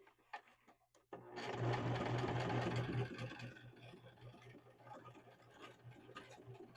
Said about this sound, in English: we're just going to sew it along there, keeping the bottom part out